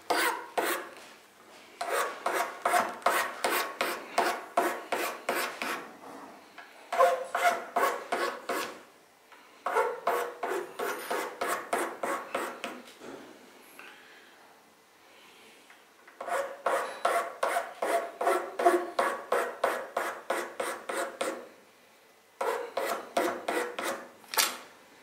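A file and sandpaper rasp over wood while a violin is set up in a workshop, in bursts of quick, regular back-and-forth strokes with short pauses between them, close and clear, with no talking.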